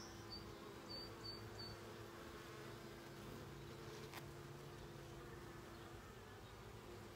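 Honeybees buzz steadily at an open hive during an inspection, a dense, continuous hum close by with a few faint higher chirps early on and no talking.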